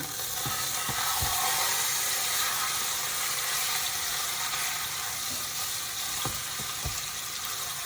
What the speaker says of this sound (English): we're going to let it sear